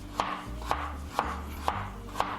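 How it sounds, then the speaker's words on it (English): A knife cutting ginger into thin strips on a board, five evenly spaced crisp chops, close up and alone. "I am going to get our ginger, chop this up, and I'm just gonna do tiny ribbons like this."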